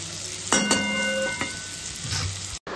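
Sliced potatoes and bitter gourd fry in a pan with a constant close hiss of oil. A spatula scrapes and stirs briefly, and a short metallic ring sounds partway through. There is no talking.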